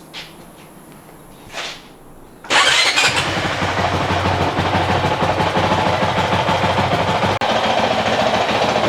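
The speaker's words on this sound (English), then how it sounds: "So now I'm gonna start this bike" A 2023 Honda CRF450X dirt bike fitted with a thermostat delete kit, with a couple of short cranking bursts before the engine catches with a loud roar, then settles into a steady, close, throbbing idle.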